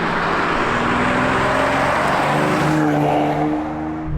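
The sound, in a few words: Ferrari 456 GT engine running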